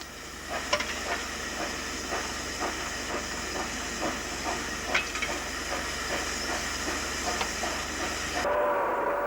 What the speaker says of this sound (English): 48505, built at Darlington in 1944, stands awaiting its next turn of duty.